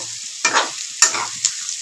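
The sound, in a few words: chicken being stirred and fried in a kadai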